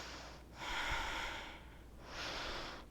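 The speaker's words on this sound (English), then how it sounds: "breathing nice and deeply." During a standing yoga pose, slow, deep breathing comes through softly and close up: two long, airy breaths with a brief lull between them, against a quiet background.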